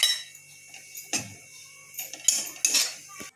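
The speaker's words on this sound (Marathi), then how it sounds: "आता आपण खोबरे तसंच भाजून घेऊ।" Coconut is roasted in a pan while a utensil stirs and scrapes it, producing irregular metallic clinks and scrapes close by with quiet gaps between.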